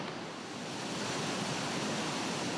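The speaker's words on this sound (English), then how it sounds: "It's a very large waterfall. It stands about 80 feet." A large river waterfall about 80 feet tall roars in a steady, dense wash of rushing water, loud and continuous, with no voices.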